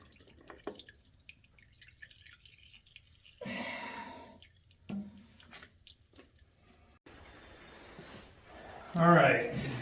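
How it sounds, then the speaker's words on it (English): Engine oil from a Ford 3000 tractor drains into a pan, a close liquid trickle with drips that swells to a louder pour near the end, and voices in between. "Oil should be coming out. Yep, there we go. Right into the pan."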